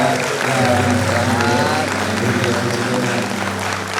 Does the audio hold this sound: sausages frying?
no